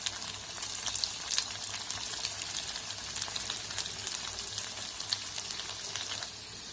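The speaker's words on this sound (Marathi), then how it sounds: "त्याला मंद आचेवर तळायचं आहे।" Potato roll pieces frying in oil over a low flame, a steady fine crackle and sizzle with scattered sharper pops, continuous and fairly soft with no talking.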